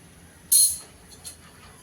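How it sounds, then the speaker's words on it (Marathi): A sharp clicking burst followed by a softer second click, like a gas stove igniter being turned on under a kadai, close by in a quiet room. "सगळ्यात अगोदर मी गॅस सुरू करते"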